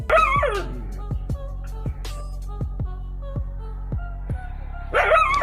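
A dog near a cobra barks sharply and repeatedly, about a dozen close, loud barks in an uneven rhythm. Higher whining yelps come at the start and end, with no talking.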